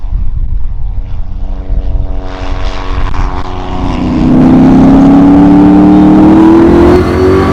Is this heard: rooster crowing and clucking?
no